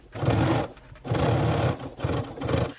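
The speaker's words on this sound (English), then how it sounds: "we're going to go to the sewing machine, and we're going to stitch these two pieces together using a 1/4 inch seam allowance" A sewing machine stitches two fabric pieces together with a quarter-inch seam, running in three steady motor bursts separated by brief pauses, close and loud with no talking.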